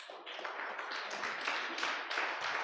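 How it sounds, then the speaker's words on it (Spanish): A church congregation applauding, dense and continuous clapping at moderate volume with faint tapping accents, lasting under three seconds with no talk. "Dale un fuerte aplauso a Dios."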